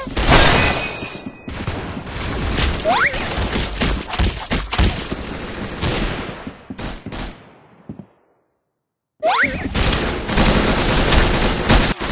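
Dense, rapid gunfire in the Roblox shooter Arsenal, heard as loud, nearly continuous bursts of shots with booms. A short silent gap about three-quarters of the way through is followed by another heavy barrage, with no talk.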